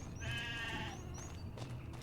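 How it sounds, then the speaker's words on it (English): Sheep bleat in Farming Simulator 25, one clear wavering bleat at moderate distance over a low ambient rumble, followed by fainter calls. "We've got sheep to start out with, which is pretty unique."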